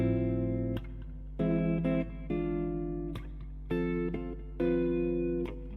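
Electric guitar plays the opening line of a track, a series of distinct sustained notes and chord stabs separated by short gaps, close and clean over a constant low hum, with no talking.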